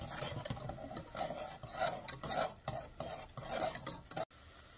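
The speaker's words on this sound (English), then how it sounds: "we're going to add 2 tablespoons of minced garlic. And we're just going to cook this for a couple of minutes." Minced garlic cooking in a pan for a casserole sauce, with a soft sizzle under repeated clinks and scrapes of a utensil stirring against the pan, close and fairly quiet, no talking.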